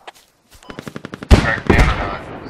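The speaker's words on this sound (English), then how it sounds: "Heavy enemy machine gun inside of the nest" Heavy machine gun fire in the Squad video game: a quick run of evenly spaced shots, then a loud, dense burst that rings out close and heavy before tapering off.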